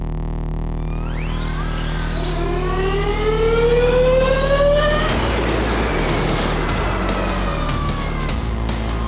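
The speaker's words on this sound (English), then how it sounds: "Today is the day I'm driving a Formula E car with Mahindra" A Mahindra Formula E electric race car accelerating, its high electric whine climbing steadily in pitch, then giving way to a loud rushing roar as it passes close by, with no voices.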